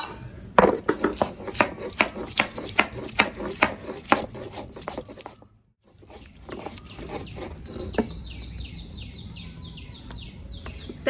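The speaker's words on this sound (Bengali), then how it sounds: "দিয়ে এখন আদা রসুনটা বেটে নেবো" Ginger and garlic being pounded into paste by hand while cooking Bengali dishes, a series of sharp rhythmic thuds that stop for a moment and then give way to lighter, scattered knocks; no talk.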